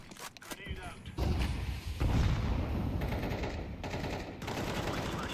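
A grenade explodes in Counter-Strike 2 amid continuous gunfire and heavy game noise, a loud broad blast followed by sustained rumbling battle sound.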